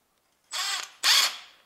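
An impact driver loosens the crankshaft pulley bolt on a Honda Civic 1.8 engine, giving two short, loud hammering bursts close by with a brief pause between them.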